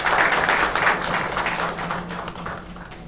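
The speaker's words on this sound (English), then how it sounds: "With a big round of applause." Audience applause at a hospital event as the executive chairman of Kauvery Group of Hospitals comes forward, steady dense clapping that swells at first and then slowly thins out, with no talking over it.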